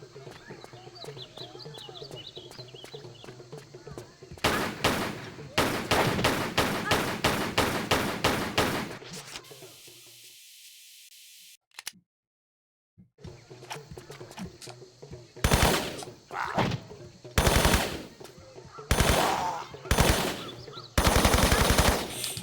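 Tomb Raider 3 gunfire crackles in rapid bursts of sharp, loud shots, broken by a brief lull before more quick volleys, with a person talking over the action.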